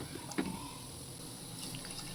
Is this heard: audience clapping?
no